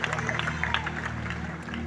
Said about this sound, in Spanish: aplauso a Jesucristo con más fuerza.